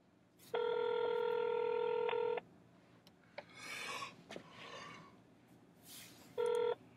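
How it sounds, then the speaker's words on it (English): Outgoing call dialing tones on a phone: two long steady multi-tone beeps, one about two seconds near the start and a short one at the end, with faint rustling and breathing between them. "Calling home. Outgoing call."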